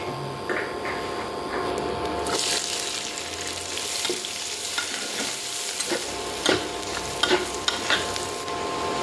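Sliced onions fry in hot oil in a pan for a shrimp-head dish, a steady sizzle broken by scraping stirs and a few sharp clicks of the spatula toward the end, with no talking.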